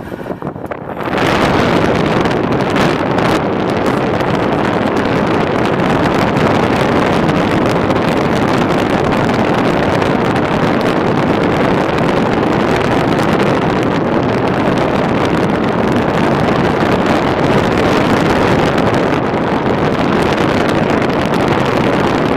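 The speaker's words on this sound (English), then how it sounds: "So got our blower on." A wood furnace blower runs steadily with both dampers wide open, a continuous broadband whoosh at close range, loud and unchanging, with no talk.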